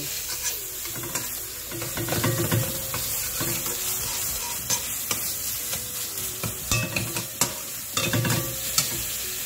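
Prawns fry in a pan until red, a steady sizzle broken by repeated scraping strokes of a spatula against the pan, close and fairly loud.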